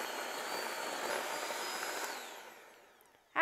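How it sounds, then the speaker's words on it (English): An electric hand mixer whirs at medium-high speed, beating no-bake cheesecake ingredients. It gives a steady close-up buzz that fades toward the end before a sudden clunk. "I'll get my beaters, and I'll just start mixing them on medium-high speed for about 2 minutes"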